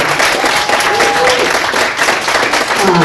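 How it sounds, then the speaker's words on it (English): Loud, sustained applause from a school breakfast audience, many hands clapping in a dense continuous wash, with voices and cheers threaded through it. "I just want to give a round of applause to Mr. Alleyne"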